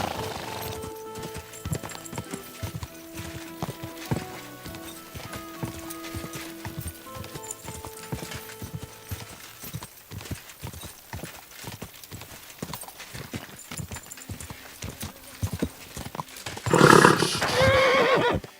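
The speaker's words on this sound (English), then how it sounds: "Easy, good horse." Horse hooves clip-clopping in a steady gallop through Kingdom Come: Deliverance II, with a loud neigh and whinny bursting out near the end over the game's background music.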